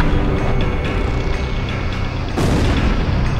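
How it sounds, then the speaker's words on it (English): A Tomahawk cruise missile strikes a city in the Ace Combat flight game, a deep booming blast with rumbling, sustained low roar and a sharp fresh impact near the end, loud and close with no talk. "A tomahawk just hit the city."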